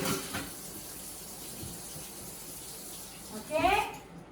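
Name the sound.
washing knife and grinder disc under hot tap water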